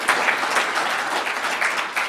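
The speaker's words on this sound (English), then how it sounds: "Let's do it by applause again" A lecture audience at the University of Chicago applauds steadily, dense even clapping filling the room without a break.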